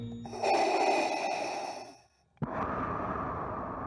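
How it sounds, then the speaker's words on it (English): Darth Vader's mechanical respirator breathing from Star Wars, close and loud: a long hissing inhale, a brief pause, then a harsh exhale, with no speech. "His cold, mechanical breathing."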